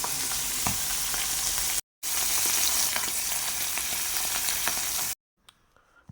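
Dried fish fries in a pan with a loud, steady hiss and crackle. The sizzle breaks off briefly and then resumes before cutting to quiet near the end.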